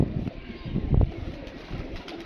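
A pigeon coos in soft low pulses close by, with faint outdoor wind and distant murmuring around it.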